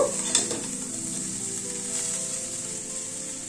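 Okra sizzles steadily as it fries with spices in a pan over a low gas flame, a continuous close hiss with a brief stirring scrape near the start.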